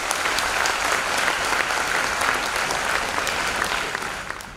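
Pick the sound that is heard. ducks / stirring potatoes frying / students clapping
students clapping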